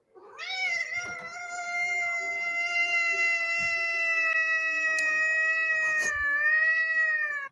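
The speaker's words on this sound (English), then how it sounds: "What the hell kind of meow" A cat lets out one long, strange, drawn-out meow, loud and close, holding a steady whining pitch for several seconds before cutting off abruptly.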